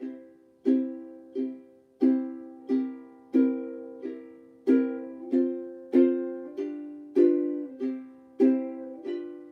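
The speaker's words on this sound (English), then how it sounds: "So if we're playing a quarter note strum, it would sound like this." Swing-style ukulele quarter-note strums land in an even steady beat, roughly one per second, each chord ringing and fading before the next; strums on beats 2 and 4 hit slightly harder.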